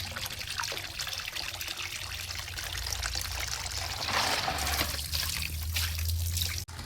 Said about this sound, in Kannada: ನಾನು ಸ್ವಲ್ಪ ಪಾತ್ರೆ ತೊಳಿಬೇಕು.